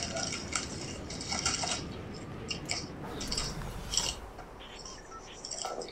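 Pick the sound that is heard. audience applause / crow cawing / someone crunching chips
someone crunching chips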